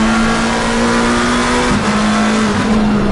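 A GT3 race car in a racing game at Laguna Seca's corkscrew, with a loud, steady onboard engine drone that drops pitch briefly as it shifts or lifts midway, then holds again.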